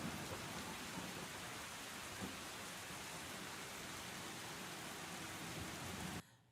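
Steady, dense rainfall with a rumbling undertone fills the scene in the X-Plane 12 flight simulator, loud and unbroken for about six seconds before cutting off abruptly.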